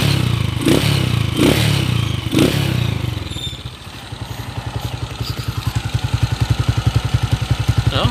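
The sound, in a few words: Honda TMX155 motorcycle engine running noisily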